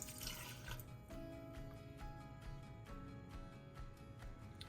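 Watermelon juice pours into a shot glass for a Hightower Rocks cocktail at the Nomad Lounge in Disney's Animal Kingdom, a faint, close, steady trickling splash with no talking.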